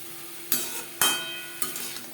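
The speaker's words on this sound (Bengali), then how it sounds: "লবণ হলুদ কাঁকরোলের সাথে বেশ ভালো করে মিক্স করে দেবো।" Bitter gourd pieces with salt and turmeric are stirred in a hot pan, giving three sharp scraping clacks of a utensil over a soft, steady sizzle.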